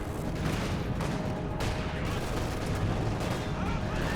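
Artillery and gunfire rumble through a Company of Heroes 2 battle in a dense, continuous barrage of low booms and cracks, with several heavier blasts standing out in the mix.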